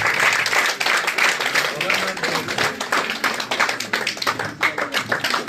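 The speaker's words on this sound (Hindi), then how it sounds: "जोरदार तालियां हो जाए।" Dense, loud applause from an audience at a school felicitation programme, rapid overlapping claps continuing steadily throughout with some voices mixed in.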